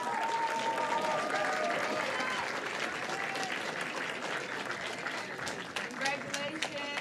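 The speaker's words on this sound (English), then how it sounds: "Please applaud your family and friends for their efforts to support you." Audience applause at a graduation ceremony honoring graduates' family and friends, a dense, steady wash of clapping from a large crowd that holds for several seconds and slowly thins.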